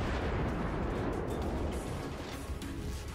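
Warship guns fire in World of Warships, dense rumbling naval salvos and explosions rolling together into a continuous heavy roar, fairly loud and without speech.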